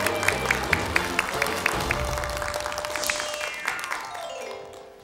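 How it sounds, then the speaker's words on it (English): Studio audience on a Korean kids' quiz show clapping steadily, a sustained wash of applause with a few sharper claps on top, fading out toward the end. "the audience was clapping"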